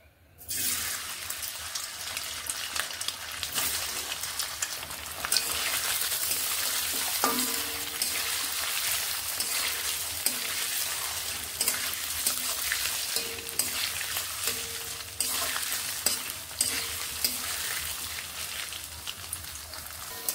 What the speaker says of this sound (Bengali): প্রথমেই আমি পনিরগুলোকে ভেজে নিচ্ছি।